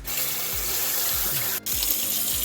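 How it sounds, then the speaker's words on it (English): Hot water runs steadily from open faucets in a house, a constant loud rushing splash with a brief dip near the end and a low pulsing hum underneath. "we're going to open up a couple faucets in the house and let all the hot water drain out"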